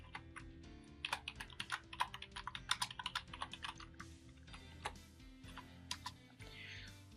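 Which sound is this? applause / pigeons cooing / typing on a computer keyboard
typing on a computer keyboard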